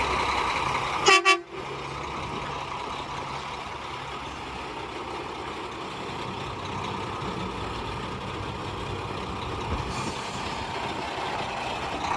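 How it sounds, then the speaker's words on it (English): A Class 1 truck's horn gives short, loud blasts near the start before backing up, followed by a long stretch of steady diesel engine rumble. "don't forget the 2 honks before we back up"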